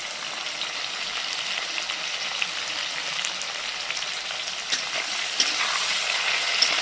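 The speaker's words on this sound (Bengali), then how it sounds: "একটু ভেজে নিই" Tomatoes and gourd greens fry in a pan with a steady, close sizzle and a few soft stirring knocks near the end, with no voices.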